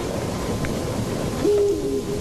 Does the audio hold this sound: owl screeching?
yes